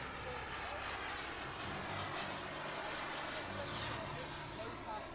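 At an outdoor model air show, a model jet aircraft passes overhead with a distant, steady rushing whine under continuous commentary from a man.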